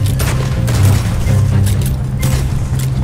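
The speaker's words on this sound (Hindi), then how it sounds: "एक तो यार ये वाली पिस्टल में ना एक ही गन के बाद रीलोड करनी पड़ रही है" Pistol gunfire in a Red Dead Redemption 2 shootout: a close, loud volley of booming shots fired in quick succession over a few seconds, with a low rumble beneath.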